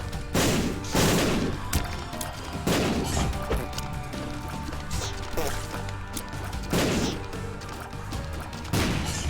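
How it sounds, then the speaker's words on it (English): Bombs blasting in The Binding of Isaac Repentance, a series of loud booming crashes spaced a couple of seconds apart, each one a heavy thud with a broad noisy burst, set over game background music. "See, I can randomly throw pointless bombs as well."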